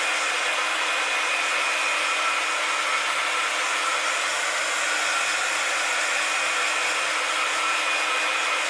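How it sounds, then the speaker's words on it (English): A secondhand heat gun that may be failing runs continuously at close range, a steady loud blowing whir with a faint whine and no breaks, used to dry a craft piece before painting. "it sounds like my heat gun might be dying"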